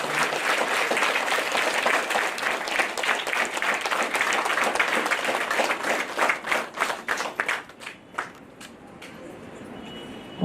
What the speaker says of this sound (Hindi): तो इतनी ज़ोर से ताली बजाओ तो बहुत आराम आता है।